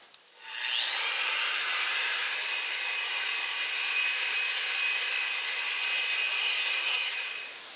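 A big coral fossil is polished with 8000 grit abrasive on a spinning power tool, a steady close-up whirring and rubbing drone that rises in pitch as it spins up, holds for several seconds, then stops.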